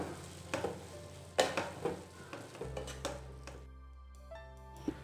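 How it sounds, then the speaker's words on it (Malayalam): Vegetable momo filling with spring onion is stirred in a pan, giving a run of scraping, clinking spoon strokes over a soft sizzle that thins out into a quieter, steadier tail near the end. "എന്നിട്ട് നന്നായിട്ടൊന്ന് മിക്സ് ചെയ്ത് കൊടുക്കാം"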